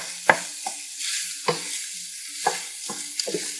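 Pasta ingredients sizzling in a frying pan, a steady hiss broken by regular scraping strokes of a utensil stirring every half second or so, close and fairly loud.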